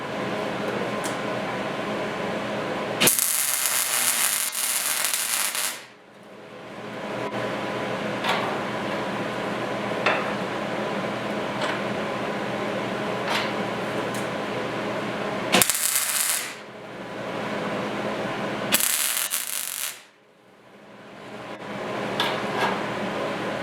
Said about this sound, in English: Once you're happy with that, weld her up.